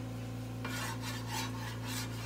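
A brush spreads oil across a frying pan on a stove for cooking roti, giving several soft rhythmic swishing strokes over a steady low hum.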